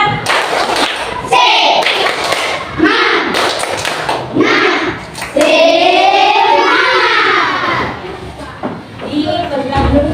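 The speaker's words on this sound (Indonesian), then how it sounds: "Tepuk semangat" Schoolchildren do a rhythmic spirit clap in a classroom, with loud bursts of patterned clapping and thumps mixed with chanting voices throughout.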